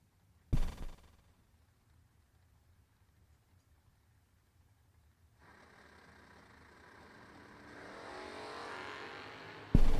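Race cars in the Twin Fifties drag racing, with a loud burst at the start, a long quiet stretch, then engines rising and roaring closer before another loud hit at the end.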